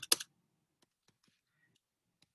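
Typing on a computer keyboard while entering a formula in Excel: a quick double clack of keys up front, then a few faint, scattered single key taps spaced apart in a quiet room.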